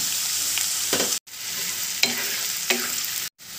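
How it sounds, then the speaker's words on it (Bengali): Potato pieces and chopped onion fry in hot oil with bay leaf and cumin, a continuous close sizzle broken by the scrape of a spoon stirring the pan, with two brief drops to silence. "আলুর টুকরোগুলো হালকা ভেজে পেঁয়াজ কুচি দিয়ে দিলাম"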